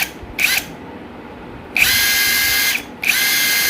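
An INGCO brushless 400 Nm impact wrench on its medium setting whirs in two bursts, a short one and then a sustained run of about a second, with brief trigger pulses between them, loud and close with no talk.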